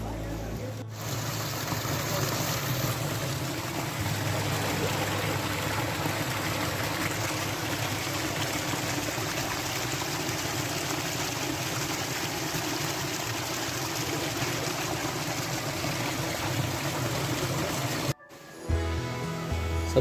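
A waterfall in the forests of Jim Corbett, Uttarakhand, pours with a steady, dense rush of falling water, constant throughout and ending in a brief cut.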